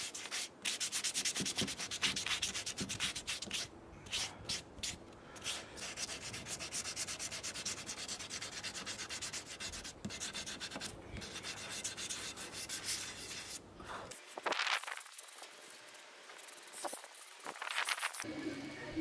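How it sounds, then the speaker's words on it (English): Old wood is sanded by hand through progressively finer grits, with close, continuous rough rubbing and scratching strokes in an uneven rhythm that pause briefly near the end. "Then working my way up the grits till it was really smooth."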